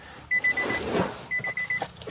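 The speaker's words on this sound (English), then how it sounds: "sorry about that beeping" Short electronic warning beeps from a 2022 Nissan Frontier pickup truck in two quick bursts, a rapid series of high chirps separated by a brief pause, close and fairly loud.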